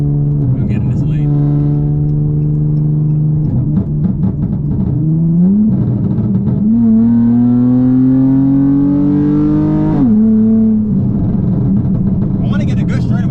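A tuned V6 Dodge Charger accelerating hard in track mode, its engine note climbing through rising gear pulls with shifts between them, loud and close from inside the cabin.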